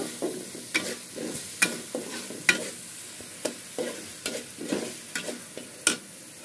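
Mezbani beef fries and is stirred in a pan, with repeated sharp scraping strokes of a spatula against the metal at a steady rhythm over a low sizzle, close up and clear.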